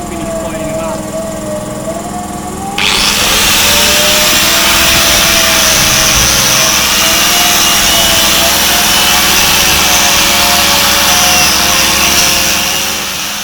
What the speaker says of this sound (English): I'm using an abrasive wheel on the prop, just using wire brush on the rudders to finish cleaning them up.